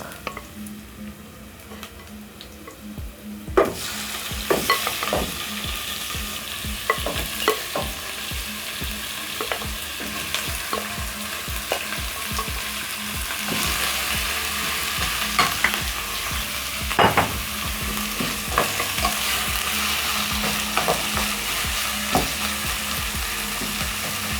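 Pork added to softened onions and frying in a pan for a Kenyan pork wet fry, going from quiet to a loud continuous sizzle, with repeated sharp scraping and stirring clatters throughout.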